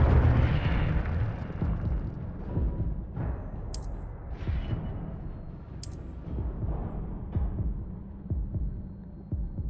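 Fiery spell bursts in the video game Hogwarts Legacy, an Incendio fire spell cast amid combat: loud repeated whooshing blasts and low rumbling impacts over a dense game soundscape, with bright crackling flashes.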